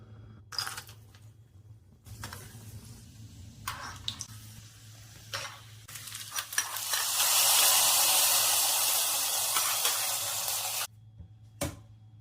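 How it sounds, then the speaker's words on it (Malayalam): Cashews and raisins roasting in ghee in a pan for jackfruit payasam: soft scattered sizzling and stirring clatter near the pan, swelling to a louder continuous hiss of frying midway before cutting off abruptly. "നെയ്യൊഴിച്ച് അണ്ടിപ്പരിപ്പ്, മുന്തിരി വറുത്തെടുക്കാം."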